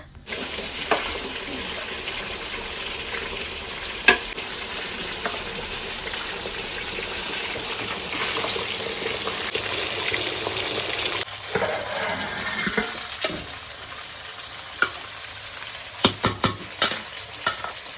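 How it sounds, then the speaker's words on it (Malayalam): Continuous loud sizzling of large chicken pieces deep frying in oil for biryani, with occasional clinks and stirring clatter toward the end, no talking. "മാറ്റി വെച്ച ചിക്കൻ നമുക്ക് വറുത്ത് കോരിയെടുക്കാം"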